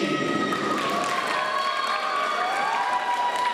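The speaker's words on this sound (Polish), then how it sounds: "I wspólne zdjęcie oczywiście razem z Michałem Gawronem, oficjalnym przeciwem Polskiej Federacji Tańca i brawa od publiczności" Steady audience applause at a dance federation medal ceremony fills the space, even and sustained, with faint tonal sounds drifting over the clapping.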